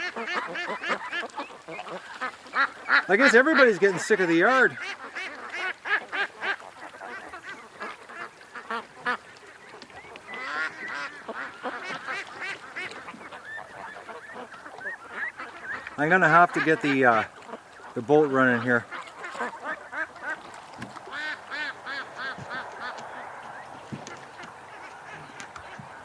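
Geese honk loudly in bursts while ducks quack around them, nearby in a yard by the water, with someone talking over and between the calls.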